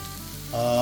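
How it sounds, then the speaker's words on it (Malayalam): A brief, steady sizzle of onion, mustard seeds, curry leaves, ginger, garlic, coriander leaves and green chili frying together for a squid dish, heard close and continuous, swelling slightly louder toward the end with a faint tonal hum beneath. "ഇഞ്ചി, വെളുത്തുള്ളി, മല്ലിയില, പച്ചമുളക് ഇതെല്ലാം കൂടെ ഇട്ടിട്ട് ഷോട്ട് ചെയ്തതാണ്"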